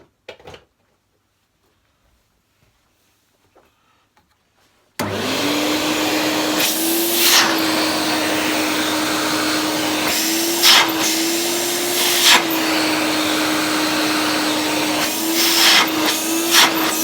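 A Hoover Portable Model 2106 vacuum cleaner, refurbished, switches on after near silence and runs with a loud, steady motor whine and rushing airflow, close by, with small bumps and clunks as it is handled.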